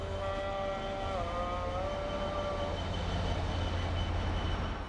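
An overnight train to Cairo in Egypt gives a steady, loud rumble throughout, with a few sustained tonal whines that bend in pitch partway through before fading.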